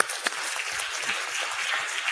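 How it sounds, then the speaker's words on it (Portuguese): A crowd gives a sustained round of applause at a 2019 lecture event, steady dense clapping that holds at an even level throughout without speech over it. "Eu queria uma salva de palmas para esses homens,"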